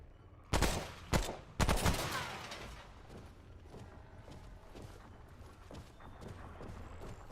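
Gunfire in the video game Remnant From The Ashes: three loud, sharp shots in quick succession, each trailing off into a lingering echoing rumble with faint mechanical clatter afterward.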